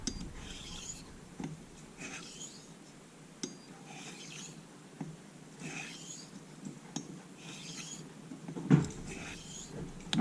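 A Gold Dollar straight razor strokes across a whetstone in slow, evenly spaced passes, each a soft scraping rub. The strokes are close and quiet against a faint background.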